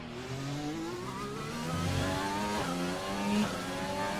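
Formula 1 car in the F1 2020 racing game accelerating up to speed, a steady high-pitched engine whine rising through the gears with brief shift dips, loud and continuous without talk.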